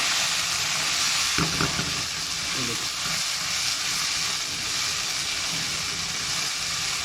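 Soaked moong dal frying with onion in a hot pan for khichdi produces a continuous close sizzle and hiss, with a short burst of stirring and scraping early on.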